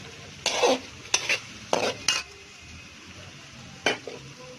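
Capsicum, carrots and peas stir-fried in a pan sizzle steadily while a spoon scrapes and stirs in five or six short, loud bursts, close up with no talk.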